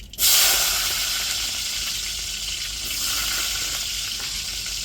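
Shallots dropped into hot oil with a mustard seed and urad dal tempering, a sudden loud sizzle that settles into a steady, close frying hiss with no talking.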